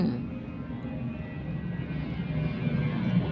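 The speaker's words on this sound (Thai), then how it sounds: "เสียงเครื่องบิน" An airplane passes overhead with a continuous low, rumbling drone that builds slightly over a few seconds, steady and fairly loud with no other sounds standing out.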